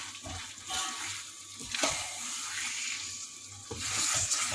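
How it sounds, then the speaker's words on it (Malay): Chicken pieces cooking with ground spices and cumin in a pan for chicken biryani, a steady low sizzle with faint stirring scrapes and a couple of sharper clinks, close and moderately quiet, no talking. "Tumis sekejap dan masukkan air sekejap ya."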